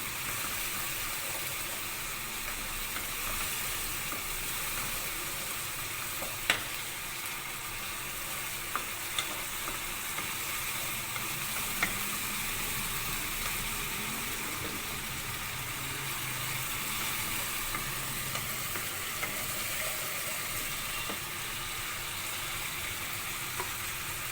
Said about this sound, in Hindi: थोड़ा सा 1 टेबल स्पून ऑयल और मैंने डाल दिया ताकि मसाला अच्छी तरह भुन जाए।